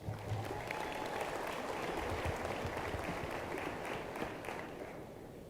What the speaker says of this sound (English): Give him a round of applause, please.